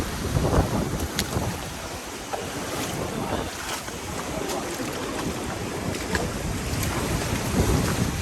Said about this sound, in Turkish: Dalgalar şiddetini arttırmaya başladı.